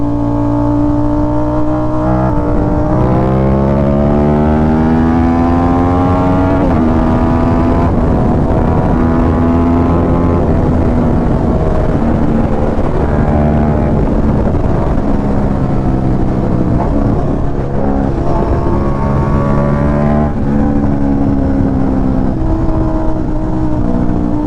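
A Yamaha YZF-R1 sport motorcycle with a crossplane-crank engine revs loud and close, the pitch climbing and falling through repeated throttle sweeps over a sustained, uneven engine growl.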